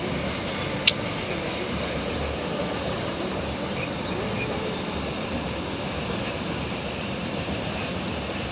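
A goods train rumbles past in a steady, broadband roar that fills the whole stretch without letup, with one brief sharp click early on and no speech.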